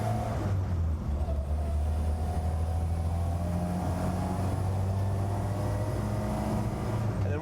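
Restored Land Rover Series IIA heard from inside the cab as it slows toward a stop and downshifts into second and then first, a steady low engine drone with gently shifting pitch throughout.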